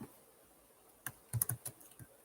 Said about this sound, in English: Typing into the chat